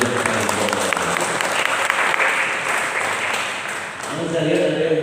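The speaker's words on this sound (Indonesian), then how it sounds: "saya mohon keridhaan antum untuk tepuk tangan yang beriman" An audience at the final round of a Fahmil Qur'an quiz competition bursts into loud, sustained applause, thick overlapping clapping with faint crowd murmur underneath, dipping briefly before swelling again.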